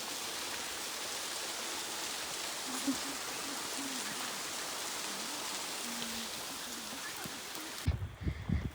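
Steady rain hisses evenly throughout over a field near a waterfall in Senapati, Manipur, a dense wash of falling water, ending with a few louder thumps and rustles nearby.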